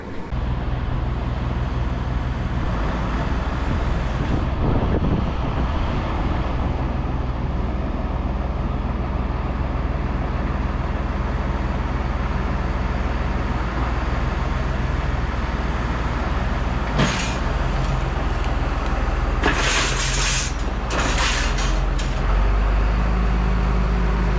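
Tractor engine revving while backing in reverse, a loud steady diesel rumble that holds throughout, with a few brief metallic clanks near the end.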